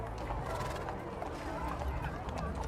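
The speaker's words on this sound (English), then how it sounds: "And a bunch more horses." Horses' hooves clip-clop along the route of the National Western Stock Show parade, a steady busy patter with an occasional whinny over constant crowd chatter and talk.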